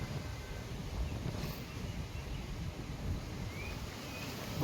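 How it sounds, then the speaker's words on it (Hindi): Steady outdoor wind buffets the microphone for the whole stretch, a dense low rumble with no talk, constant and fairly loud. "बढ़िया हवा चल रही है।"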